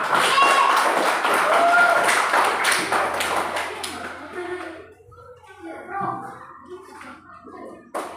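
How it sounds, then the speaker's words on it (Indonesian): A classroom of students claps together in a lesson on Manggarai culture, a dense burst of close applause lasting several seconds that thins out while children's voices and chatter rise afterward. "tepuk tangan untuk kita semua"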